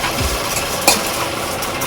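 Cardamom dry-roasts in a pan, heard as close, steady rustling noise with light stirring and one sharp clink of utensil against metal partway through.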